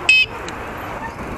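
One short, bright car horn honk sounds near the start, on a seaside bicycle path, followed by faint traffic background.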